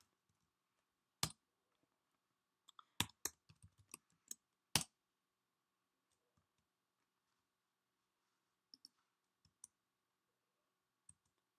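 Keys clatter on a computer keyboard in short bursts of quick clicks, then a few scattered isolated taps, close and crisp in an otherwise silent room.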